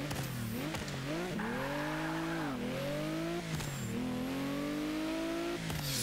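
A 2013 Mercedes-Benz G 65 AMG engine in Forza 5 revs loud and steady, the pitch climbing through gear shifts with brief dips between, no talking.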